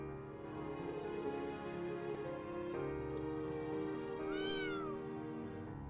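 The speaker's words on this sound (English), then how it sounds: "I am so weak to kitties." A cat in the video game Trails of Cold Steel III gives one short, faint meow near the end, over a quiet, steady background hum of game sound.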